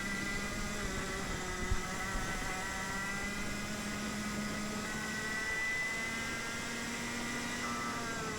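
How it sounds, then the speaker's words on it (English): A Rotax Senior kart engine drones at high revs while driving a lap at Pista Azzurra Jesolo, a steady buzzing whine held near the rev limiter, with faint pitch shifts and wind noise underneath. "We were going into the ref limiter, and yeah, that's normal actually."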